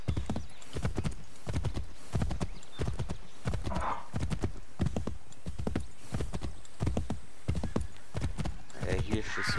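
A horse in Assassin's Creed 3 moves at a steady gait, regular clip-clop hoofbeats repeating in even rhythm, with a brief whinny partway through and a player talking over it.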